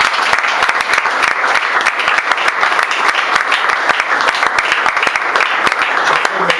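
A church congregation at a Sunday service applauding, dense steady clapping from many hands at close range, with faint voices mixed in.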